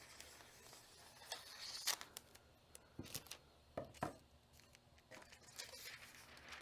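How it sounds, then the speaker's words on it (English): Scissors cutting a sheet of rainbow hot stamping foil, giving a few quiet, irregular snips and crinkly rustles of thin foil, close but faint, with no talk. "Let me grab some scissors here, and I'll just simply cut the foil to the size I need."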